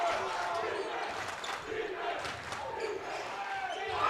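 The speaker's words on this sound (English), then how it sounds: "Canty gets a rise out of the crowd in this one." A home crowd at a men's college basketball game roars and cheers after a steal and slam dunk, a sustained wash of noise with shouts rising and falling, and a commentator talks over it.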